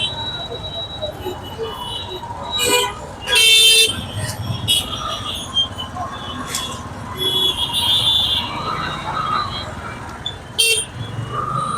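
Car horns toot repeatedly in busy traffic, several short sharp blasts over a steady road rumble.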